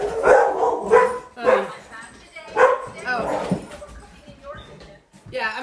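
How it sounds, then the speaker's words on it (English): Several dogs bark in bursts from indoors during a home kitchen cooking session, loud and close, mixed with a person talking over them. "There go the dogs."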